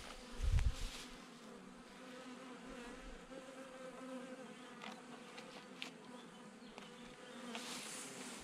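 Honeybees swarm around an open hive during a beekeeping inspection while a second hive body is being placed, a dense, steady buzzing drone with a brief louder low thump near the start and no talking.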